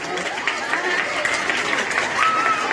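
Applause from an audience at a Teachers' Day celebration for a kindergarten, a steady wash of clapping with some whistling, sustained and moderately loud, no talk heard over it.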